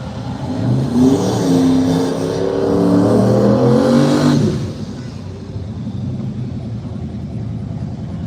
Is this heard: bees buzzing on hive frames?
no